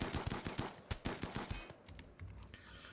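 Rapid bursts of colonist gunfire in the colony-survival game Rimworld, sharp repeated shots in quick uneven volleys for the first half, then thinning into scattered softer pops and clicks.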